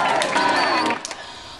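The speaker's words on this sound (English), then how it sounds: "The crowd's gone wild" A crowd at a high school game cheers and shouts wildly, a loud dense roar that drops off abruptly near the end, leaving a few scattered faint sounds.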